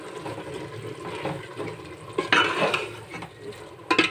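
Yogurt gets stirred into a pulao mixture in a pot, producing wet scraping and clinking of a spoon against metal, with a louder burst of sloshing midway and a few sharp knocks near the end.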